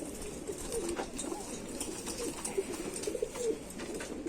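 An Indian Rampuri pigeon coos softly in a series of low, rolling calls, repeating at irregular intervals over a faint background hiss, close by and without speech.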